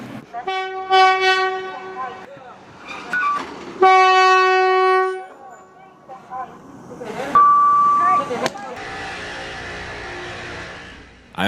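A train runs on rails, sounding loud harmonic horn blasts in several separate bursts over a continuous rumble of the passing cars, with voices heard partway through.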